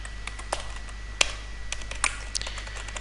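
Code for a CSS web development lesson is typed on a computer keyboard in a steady patter of close key clicks, with a few sharper taps standing out over a low hum.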